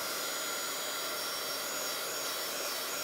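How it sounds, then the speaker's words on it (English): A steady, even whooshing roar of blown hot air, constant and close, with no talking. "So keep your heating tool moving."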